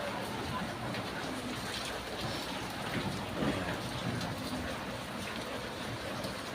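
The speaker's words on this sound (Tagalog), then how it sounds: "Walang tigil ang ulan." Heavy, steady rain pours down in a village barangay, a dense continuous hiss of drops hitting surfaces, loud and unbroken throughout with no pause.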